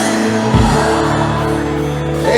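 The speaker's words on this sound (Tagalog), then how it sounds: "One more time, sigawan ng katabi pagsabi sa kanya" Worshippers in a church congregation yell at the people next to them, a loud crowd roar of mixed voices over a steady instrumental backing, with a low thump near the start.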